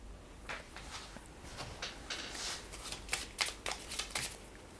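Strategy and order cards from a board game are shuffled together, giving a close run of quick riffling flutters and soft paper slaps that grows busier toward the end, with no talking.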